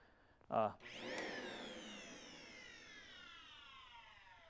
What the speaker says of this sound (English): this motor has had, you can hear that whine